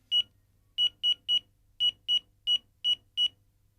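A phone rings in a Tamil television serial, giving a sequence of short, sharp, high electronic beeps in irregular clusters, loud and alone over a faint low hum.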